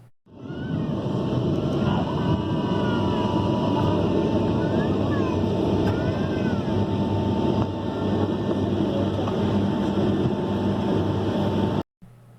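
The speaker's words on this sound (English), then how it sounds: "A shot of an MD-10, aka a DC-10, in action, landing at Newark Airport" A McDonnell Douglas MD-10 (DC-10) airliner lands at Newark Airport, a loud steady jet roar that fills the whole stretch, with high engine whine on top, then cuts off abruptly at the end.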